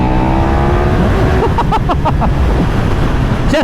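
A KTM 1390 Super Duke R motorcycle pulls hard in third gear, its engine roar rising sharply midway over heavy rushing wind noise, loud and close.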